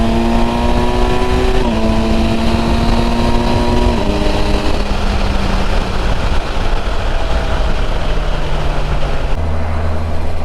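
Engine of a 2020 Kawasaki Versys 1000 SE under way, a loud, continuous drone whose pitch steps down through gear changes and settles lower, heard up close with wind noise and no talking.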